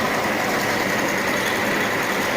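A milling machine pre-drilling a hole to about 8 mm depth for a converter, a constant, loud mechanical whir and hum with no break throughout.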